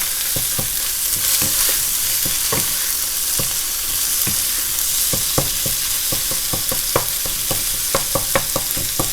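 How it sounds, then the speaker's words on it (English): Egg scrambles in a hot pan for Chinese sausage fried rice, a loud steady sizzle broken by repeated sharp spatula taps and scrapes as the egg is broken into pieces. "Break down the egg into smaller pieces."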